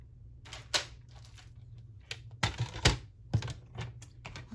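Scissors snip through thick card for a sunflower-themed junk journal, a series of close, crisp cutting clicks and crunches in uneven rhythm.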